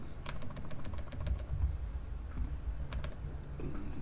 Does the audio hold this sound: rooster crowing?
no